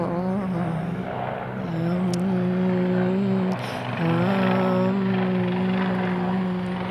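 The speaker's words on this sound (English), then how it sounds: "Sorry about the helicopter up there." A helicopter flying overhead during an outdoor yoga teacher training session, its steady droning rotor and engine hum loud and sustained, shifting pitch slightly as it passes.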